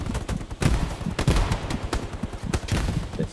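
Battlefield gunfire in the video game Hell Let Loose, dense overlapping rifle and machine-gun bursts with heavy low thumps, loud and continuous through the whole moment.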